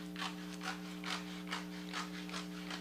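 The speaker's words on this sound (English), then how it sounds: "So I'm just going to cut and make a few strips at a time here" Scissors cutting glossy magazine pages into strips, a regular series of about seven crisp snipping strokes close by, with a low steady hum underneath.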